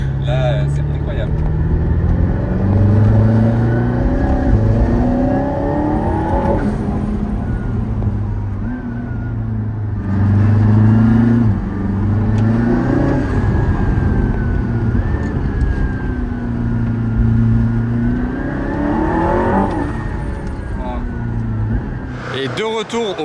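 An Aston Martin Valhalla hypercar engine accelerates, loud and steady throughout, its tone repeatedly sweeping up and falling back as the revs climb and drop through successive surges.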